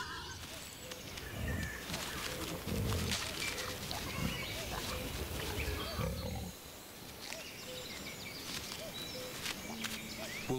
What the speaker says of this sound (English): the wolf is woken by the sound of mushroom-digging boar